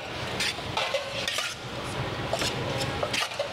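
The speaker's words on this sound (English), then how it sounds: "So just stir that mixture" A spoon stirs a marinade of salt, white pepper and cornstarch in a bowl, giving soft scraping and a few light clinks against the dish, close and fairly quiet.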